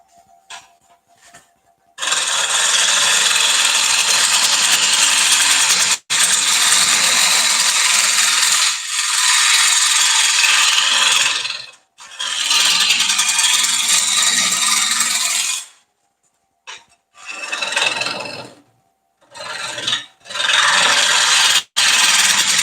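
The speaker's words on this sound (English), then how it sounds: "I'm going to just go a little bit further with that peeling cut" A woodturning gouge takes peeling cuts into a bowl spinning on a lathe, giving a loud, steady rasping scrape in long sustained passes broken by brief pauses, with no talking.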